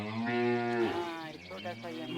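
A cow gives one close, drawn-out low moo at a village cowshed in the Almora hills, the call rising and then falling away before a softer grunt.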